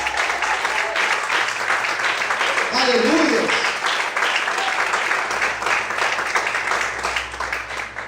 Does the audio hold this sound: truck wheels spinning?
no